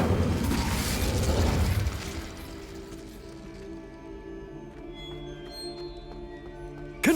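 In Hogwarts Legacy, the Incendio fire spell goes off as a loud roaring whoosh for about two seconds. The roar fades into a low crackling hum with tonal magical ringing and a sharp snap at the end.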